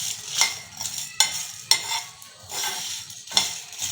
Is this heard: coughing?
no